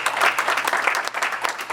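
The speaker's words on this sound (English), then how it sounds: "I think we ought to give him an applause" Applause breaks out for the police chief at a city council meeting, a dense, steady crackle of many hands clapping close by, continuing throughout without any speech.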